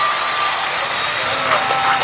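Audience applause fills a sixth-anniversary birthday celebration of a Batak youth association in Batam, a dense, steady wash of clapping with crowd noise and voices mixed in throughout.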